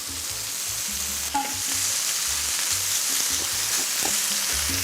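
Anchovy fish sauce mixed with corn syrup sizzles and bubbles steadily in a pan on the heat, a continuous close frying hiss with small pops and a faint clink, and no talking.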